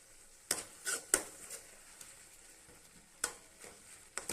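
Banana flower kootu being stirred in a pan after grated coconut goes in: soft, low sizzling with a few sharp scraping clicks of the spoon against the pan, quiet and close, no voices.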